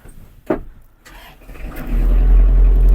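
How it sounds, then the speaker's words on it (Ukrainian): A Kubota GL-368 mini tractor engine cranks with a couple of clicks, then catches and settles into a loud, steady running rumble close by. "Завівся тракторець добре."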